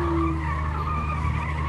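A car skidding on ice in Fortnite, a steady sustained tire squeal over a continuous engine drone, loud and close throughout with no pauses.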